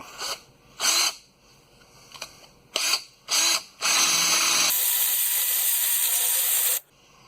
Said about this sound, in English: I went and got one of these paint rust remover things